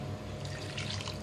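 Thin coconut milk is poured into a pot of Kerala-style mutton stew, a close, continuous liquid splash and gurgle that stays steady throughout the short moment, with no talk.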